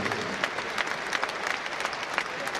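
A cricket crowd applauds a shot by Jason Roy in a Surrey versus Sussex match, a steady wash of distant clapping from many spectators that holds for the whole stretch.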